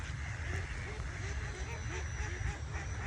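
Mallard ducks quack repeatedly in a busy group at close to middle distance, their calls running over a low, steady rumble of background noise.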